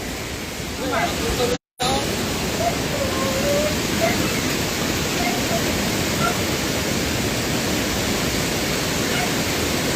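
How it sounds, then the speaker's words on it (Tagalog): Loud continuous rushing noise of strong wind and churning floodwater over a bridge fills the scene, with a short dropout early and a faint voice in the mix. "Malakas talaga yung hangin guys, yung baha pa"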